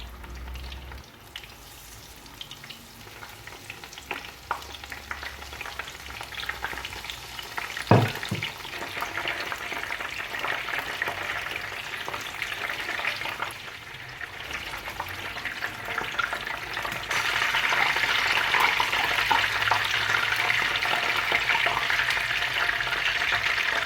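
Tempura pieces and sweet potato fry steadily in hot oil, a dense continuous sizzle and bubbling that grows louder and brighter partway through, with no speech.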